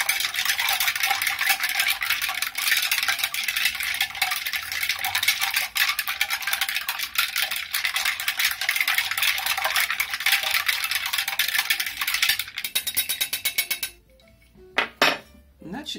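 A Thomas Crown cocktail stirred vigorously, a fast continuous metallic clinking and rattling of ice and spoon in a glass, close and loud, stopping near the end with a few last clinks.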